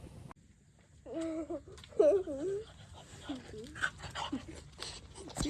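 A small dog whimpers and whines in a few short high-pitched bursts, then pants softly, fairly quiet against a calm indoor background in the morning.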